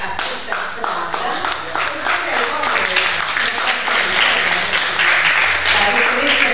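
An audience applauds at a presentation event in the Province of Salerno, giving sharp, dense clapping for several seconds while voices talk in the room.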